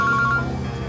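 A mobile phone ringing, a brief, loud electronic ringtone of quick repeated tonal pulses lasting about a second.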